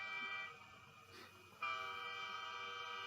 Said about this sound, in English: Here's one, train sound whistles.